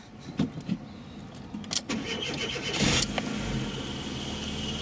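A car engine cranks repeatedly and fails to catch, with a few sharp mechanical clunks followed by a sustained cranking whir close by; no talk.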